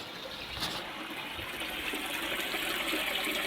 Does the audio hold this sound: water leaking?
yes